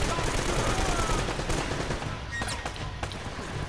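Rapid gunfire fills a shootout in the video game Uncharted: Drake's Fortune, with dense continuous bursts and loud overlapping shots throughout.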